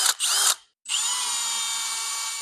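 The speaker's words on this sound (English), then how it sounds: "I got holes drilled on both sides" A power drill bores holes through a car's inner fender panels, two loud bursts of high whining motor with a short pause between, the second run steady and sustained.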